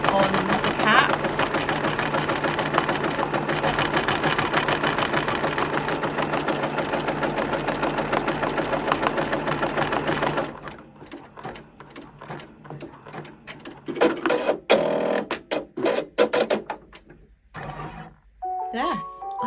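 An embroidery machine stitches a cap with fast, steady mechanical chattering close by, then stops halfway through, leaving scattered clicks, knocks and handling noises with a voice talking.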